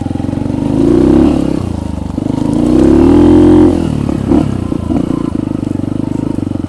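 A Kuba Race 125 motorcycle engine on a ride, a close, loud steady drone that swells twice as the throttle opens, with rattling clatter near the end.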